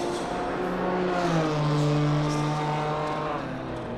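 A BMW GT4 race car at Bathurst drones past with a steady engine note that shifts pitch as it crosses the line, fairly close and loud with no voices over it.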